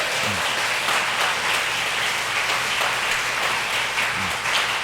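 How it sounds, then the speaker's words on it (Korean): A Sunday service congregation claps warmly and steadily for several seconds, a thick wash of applause filling the sanctuary. "자, 옆에 분에게 뜨겁게 박수를 보내드리겠습니다."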